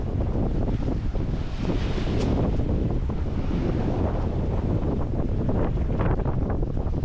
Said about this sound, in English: Wind's a little gusty.